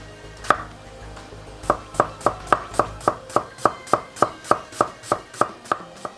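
White onion is rough-chopped on a board, about sixteen close, crisp knife strikes falling in a quick, even rhythm with no one talking.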